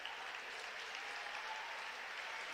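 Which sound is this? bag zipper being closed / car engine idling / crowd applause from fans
crowd applause from fans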